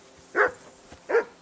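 A dog in Kingdom Come: Deliverance II barks twice, two short, fairly close woofs separated by a brief pause, with no talk over them.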